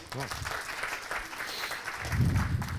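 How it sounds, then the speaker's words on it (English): An audience claps in a burst of applause, rising toward the end, with a voice speaking over it. "big round of applause, Carl Taylor."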